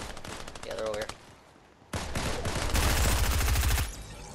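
Rapid automatic gunfire from players fighting in Fortnite, dense bursts of loud shots that pause briefly then resume heavier, with a voice talking over the game sounds.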